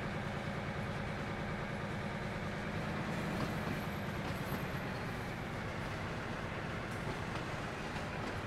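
Diesel rumble of a BR 204 locomotive in Train Sim World 3 during harbour-yard shunting: a steady, continuous engine drone with rail noise, constant in level and heard alone.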